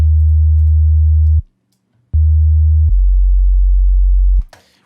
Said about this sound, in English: and of course a sub bass.